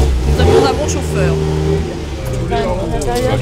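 Steady low engine drone from a 1974 Innocenti Cooper 1300 vintage car cruising in a classic car parade, running under continuous nearby talk.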